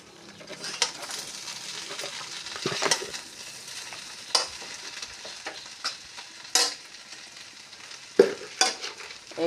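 Chow mein with fried egg, fried onion and chili is stir-fried in a pan, a soft continuous sizzle broken by repeated sharp scrapes and clacks of the utensil, with no one talking.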